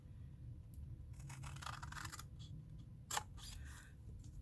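Light cutting and scratching on cardboard or paper for a custom box prototype, quiet soft strokes with one sharper snip near the end, close and alone over faint room noise.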